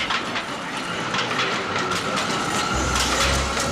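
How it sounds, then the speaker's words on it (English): A cartoon train rolls away from a station with a steady rumble and rhythmic clickety-clack, loud and close, with a low engine drone rising near the end and no speech. "Train now leaving for Madison Avenue,"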